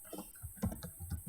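Fingers tap briskly at a computer keyboard, with a quick run of soft, close key clicks over a faint steady hiss.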